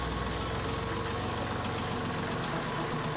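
A Kubota L Series tractor engine runs at a steady idle, a loud continuous low rumble with mechanical knocking throughout.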